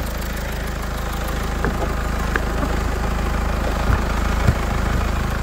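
A 2009 Mercedes-Benz C200 CDI (W204) diesel engine idles steadily with a low, even rumble and light clattering ticks, heard close up with no talking.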